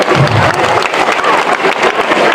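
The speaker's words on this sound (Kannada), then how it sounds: "ಜೋರಾದ ಚಪ್ಪಾಳೆ" Loud, dense applause from a crowd of high school students at a government high school event, steady clapping throughout without a break.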